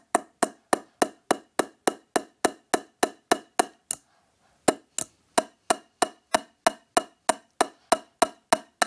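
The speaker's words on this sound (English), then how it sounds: "you're going to hammer into it" Steady hammer strikes drive a nail through a flattened metal bottle cap, about two sharp hits per second, loud and close, with a brief pause midway before the pounding resumes.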